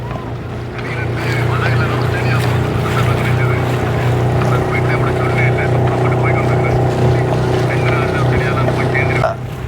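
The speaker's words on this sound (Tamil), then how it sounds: "இன்ஜின் ஸ்டார்ட் பண்ணியாச்சு" A boat engine at sea drones steadily and loudly throughout, with wind and water noise around it and occasional voices underneath.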